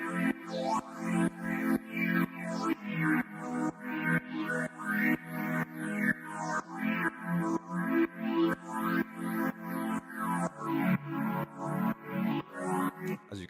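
A wobbly square-wave synth pad from Serum, run through phaser and flanger effects with filter cutoff automation, pulsing in a steady repeating rhythm of sweeping chords in a minimal house track, loud and unaccompanied.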